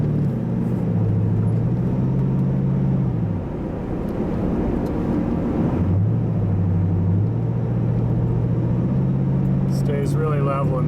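A mid-90s B-body V8 station wagon of about 4,000 pounds drives with a steady low engine drone that dips and rises as it moves through turns, with a voice talking over it.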